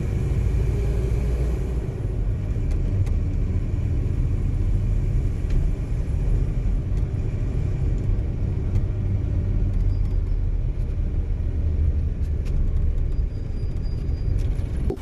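An air-conditioned bus cruises along National Highway 16 at night, giving a steady, loud, unbroken low road rumble and engine drone throughout, with no talking.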